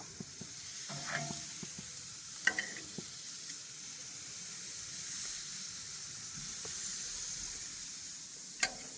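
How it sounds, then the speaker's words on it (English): Steak searing in a hot pan in a kitchen at the Eagle Crest resort in Redmond, Oregon, giving a steady, soft sizzle and hiss throughout, with a few faint clicks and pops. "Don't know if you can hear that. It's a little bit of sear, not a lot."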